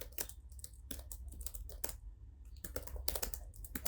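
Computer keyboard typing in irregular bursts of sharp clicks with short pauses between, fairly close and quiet, no voices present.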